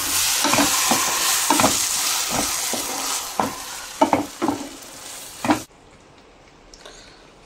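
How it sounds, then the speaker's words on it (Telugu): A spoon stirring cashew mushroom curry in a sizzling frying pan, with repeated scraping strokes over a steady hiss that drops away abruptly near the end. "బాగా మిక్స్ చేసుకుందాం."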